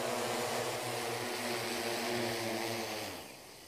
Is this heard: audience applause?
no